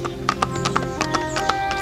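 Horse hooves clip-clop at a steady walking rhythm as a horse-drawn carriage rolls along a road in a Thai fairy tale, crisp and close over a continuous background.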